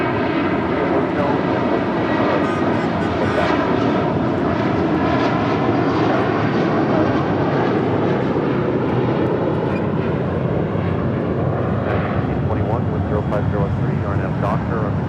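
An airliner takes off from runway 25 right at LAX, its engines producing a loud, continuous roar that holds steady throughout, with a radio voice talking over it.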